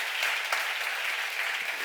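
A church congregation at a seminar breaks into steady, dense applause that fills the room evenly from start to finish, with no voice rising above the clapping.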